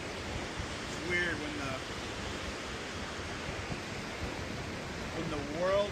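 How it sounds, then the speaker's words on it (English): Ocean waves break on a shore in a steady, broad wash of surf, fairly distant and unbroken, with faint birdlike chirps and light wind over it. "when the world is so loud, somehow the waves are louder"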